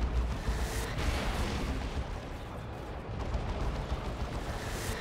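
Gunfire rakes a Wraith Lord in a Dawn of War 2: Retribution 2v2 battle, a dense, steady barrage of rapid shots and heavy impacts rumbling without pause for the whole stretch.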